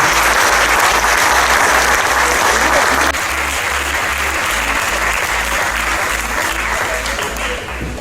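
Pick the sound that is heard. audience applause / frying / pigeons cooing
audience applause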